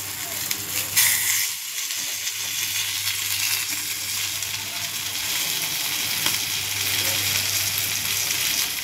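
Pieces of surmai kingfish fry in a pan with a continuous, fairly loud sizzle, broken by occasional stirring scrapes, over a low steady hum.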